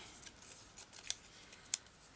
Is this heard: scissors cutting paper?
yes